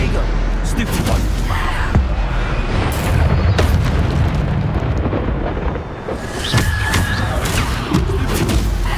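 Repeated booming explosions from the Bombarda blasting spell in Hogwarts Legacy, heavy and close, layered with crackling debris and combat effects while voices shout over the clash.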